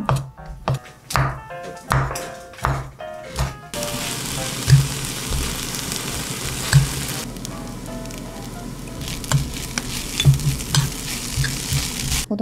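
Leftover duck meat fried rice is stir-fried in a pan: sharp spatula taps and scrapes come in a quick rhythm at first, then a steady close sizzle with occasional clinks carries on beneath it.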